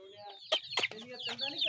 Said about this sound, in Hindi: ये देखे ये चूजे उनके,